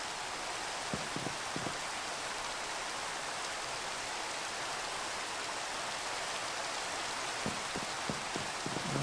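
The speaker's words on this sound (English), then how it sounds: "Nice of it to rain again." Steady Minecraft rain hisses continuously, a dense broadband wash with a few faint low thumps and clicks, no voices, moderately quiet throughout.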